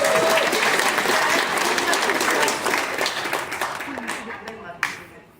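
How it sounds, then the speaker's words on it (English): An audience on a Holland America Rotterdam cruise ship game show applauds a contestant, dense steady clapping that gradually thins and fades toward the end, with one sharp clap standing out near the close. "So please give the gentleman a round of applause"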